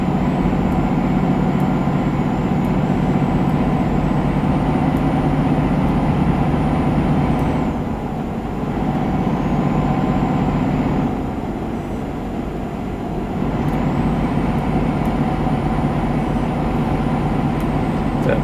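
A DAF truck engine drones loudly inside a tunnel in Euro Truck Simulator 2, a steady low rumble with whining tones that dips in volume twice before returning, with no talking.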